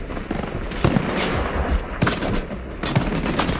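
Sniper gunfire in the shooter video game Shatterline comes as several sharp, loud shots at irregular intervals over a dense, noisy battle background.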